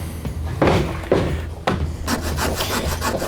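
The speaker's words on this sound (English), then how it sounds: "I'm just going to use a little hand saw, a little coping saw." A small coping saw cuts through a little piece of wood for a hockey card display case, giving close, dry rasping strokes in an uneven back-and-forth rhythm with no talking.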